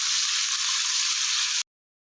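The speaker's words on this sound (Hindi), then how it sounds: "इसको तब तक फ्राई कर लेना है जब तक कि इस पर गोल्डन डॉट्स नहीं आ जाते" Chicken frying in a pan for restaurant-style chicken macaroni: a steady, loud sizzle that stays even and continuous, then cuts off abruptly to silence.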